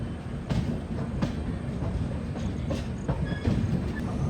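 Trivandrum Rajdhani Express rolling over tracks while switching through multiple points toward the main line, a steady low rumble with rhythmic wheel clacks from close by, continuous throughout.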